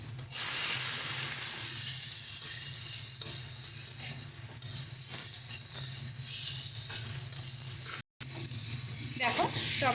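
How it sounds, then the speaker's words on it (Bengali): Chopped tomatoes for a Ganges bele fish curry hiss and sizzle loudly and steadily in a hot pan, a dense, continuous frying roar close by. One very short dropout breaks it near the end. "এবার আমরা আগে থেকে কেটে রাখা টমেটোটা দিয়ে দিচ্ছি।"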